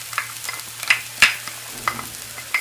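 Sautéed jackfruit pods and grated coconut being stirred in a pan, soft scraping strokes in a quick irregular rhythm over a faint low sizzle, close and fairly quiet.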